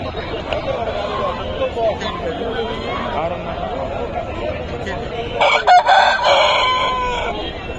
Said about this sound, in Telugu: హెవీ సైజు పుంజు. 23 హైట్ అయితే ఉంటుంది.